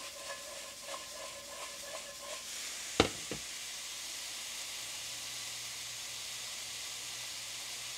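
Onion and minced garlic sizzle in a HexClad pan, a steady soft hiss broken by a couple of sharp clanks as the pan is tossed, with a faint hum underneath.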